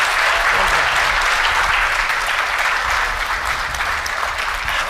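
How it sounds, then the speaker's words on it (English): A crowd claps steadily at an NAACP fireside chat, a continuous wash of loud applause that holds its level throughout with no talking over it. "Let's give them both a big round of applause"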